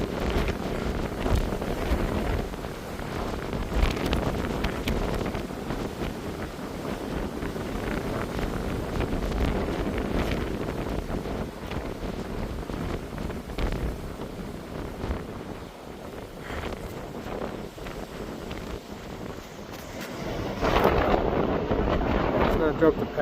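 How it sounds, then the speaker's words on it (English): Strong wind buffets the microphone on an exposed coastal walk at South Point on Wilsons Promontory, roaring in continuous gusts that rise and fall, with a stronger blast near the end. "Very windy."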